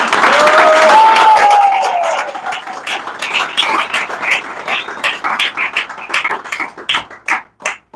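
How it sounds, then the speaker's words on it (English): A round of applause at a monastic initiation ceremony for a newly ordained monk, strong at first and then thinning into scattered, individual claps that fade toward the end. "let's give him a round of applause for that"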